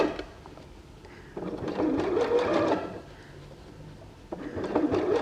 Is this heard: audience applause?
no